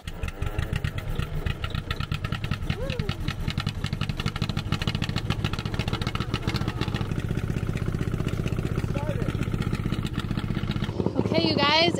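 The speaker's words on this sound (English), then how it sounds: "Okay, you guys, it started." Caterpillar D8 dozer pony engine runs after starting, a loud, fast, steady close-up chatter with slight shifts in pitch, while a person talks over it.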